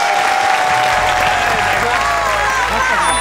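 A studio audience bursts into sustained, loud applause to welcome a guest on a talk show, dense clapping holding steady throughout with light crowd murmur.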